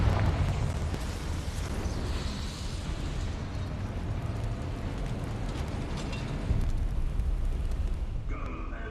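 A Confringo fire spell blasts in the video game Hogwarts Legacy, a broad rumbling explosive roar that stays loud and steady for several seconds and swells again near the end.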